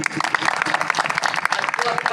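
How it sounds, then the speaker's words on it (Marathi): An audience claps together at a devotional bhajan gathering, a dense, steady patter of many hands over the full stretch, mixed with voices. "सगळ्यांनी एकदा टाळ्या वाजवा"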